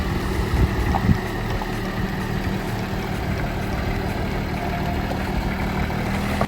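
The engine of a crash-damaged Porsche Cayenne runs steadily at idle just after starting. The low, constant rumble is close and fairly loud and continues without a break.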